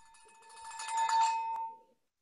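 A club bell rings out at a club board installation meeting, one bright metallic ring swelling and holding for about a second before decaying, clear and close with no talk.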